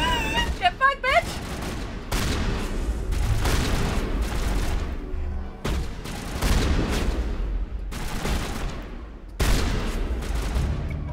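Gunfire in the video game Mass Effect: heavy bursts of automatic fire with booms in repeated waves of several seconds each, loud and close, separated by brief lulls, with a shouting voice early on.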